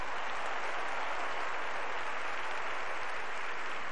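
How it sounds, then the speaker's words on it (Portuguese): A church congregation applauding during a women's worship service, a dense, loud, continuous wash of clapping held at an even level throughout. "Você pode aplaudir o Senhor?"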